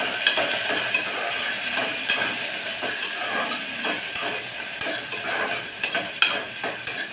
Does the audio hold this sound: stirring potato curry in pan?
yes